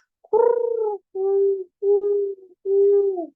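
A human voice imitates the soft, dove-like hooting call of a Western screech owl: four clear, sustained coos in a slow, even series, close and fairly loud with silence between.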